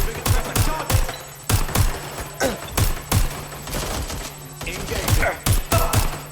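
Gunfire in a shootout in the game Watch Dogs Legion: sharp, loud shots crack in irregular bursts and single reports over about six seconds, with game chatter mixed faintly beneath.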